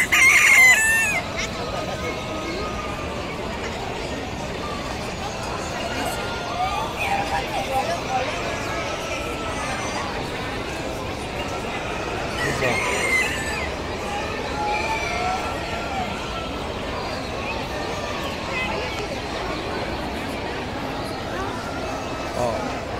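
Chickens and roosters at a poultry breed fair, with crowing and clucking heard against a busy crowd murmur and nearby voices that run throughout.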